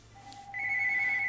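A telephone ring in Street Fighter 2: Champion Edition on the PC Engine, a steady electronic tone that jumps to a higher pitch halfway through and holds, close and clear over low hum.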